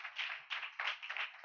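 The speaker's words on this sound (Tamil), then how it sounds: "கைத்தட்டி கர்த்தருக்கு நன்றி செலுத்துவோம்." A church congregation claps hands together in thanks during a Tamil chain prayer service, with rhythmic bursts of applause rising and falling across the moment, steady and fairly close, with no voices over it.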